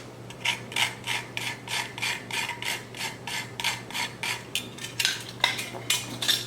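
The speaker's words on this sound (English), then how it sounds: "Do a little scraping of nutmeg" Whole nutmeg scraped over a metal grater, steady rhythmic rasping strokes, about a dozen evenly spaced passes, close and fairly loud with no talk.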